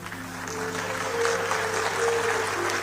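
A live audience at a public speech and poetry event applauds in a steady, dense wash of clapping that holds for about three seconds, with a faint tonal hum underneath.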